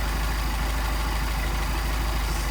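Mercedes 190SL engine with Solex carburetors idling in a workshop, a steady, loud, continuous drone with an even low rumble and no variation in pace.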